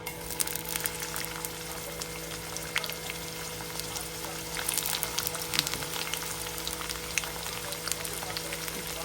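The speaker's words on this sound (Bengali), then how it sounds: "আমি সরষের তেল দিয়ে রান্না করব, আপনারা সয়াবিন দিয়ে রান্না করতে পারেন। এখন দিয়ে দিচ্ছি পেঁয়াজ কুচি।" Chopped onions frying in hot mustard oil in a wok, a steady close crackling sizzle with scattered pops running throughout, no voices.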